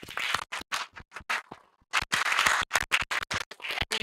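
Applause at a geopark capacity-building workshop, heard as sparse, uneven hand claps from a small group in separate bursts with a brief pause midway, close and moderately loud.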